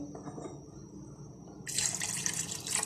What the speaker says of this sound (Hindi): पानी ऐड किया है